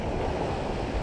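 Rough Atlantic swell during an ocean crossing gives a dense, continuous roar of surf and rushing water with wind noise, loud and steady throughout.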